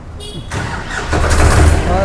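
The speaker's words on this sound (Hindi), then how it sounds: "अब मैं आपको इस ट्रैक्टर का साउंड सुनाता हूँ" A 50 hp Digitrac PP43i tractor engine cranks and catches, then rumbles up into a loud, throaty idle close by, with a voice speaking over it.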